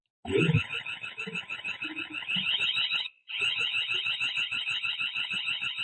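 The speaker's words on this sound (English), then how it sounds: "you can set this to alarm whenever motion is detected" A loud motion-detection alarm from an IMILAB EC6 Panoramic security camera pulses in a fast, steady warble, briefly cutting out once before resuming, close and continuous.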